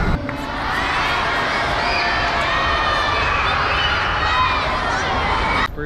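University crowd at Ateneo de Davao cheering and shouting continuously, a loud, dense roar of many voices filling the whole stretch with little variation.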